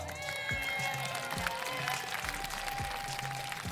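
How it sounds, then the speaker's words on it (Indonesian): An audience of local women at a televised outdoor cooking contest claps for the jury, a soft, diffuse patter of applause under steady background music with a sustained tone, heard at a distance. "tepuk tangan dong buat juri-juri kita"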